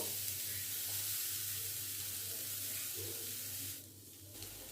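Grated coconut sizzles softly in a hot wok over a gas stove, a steady low hiss that dips briefly near the end.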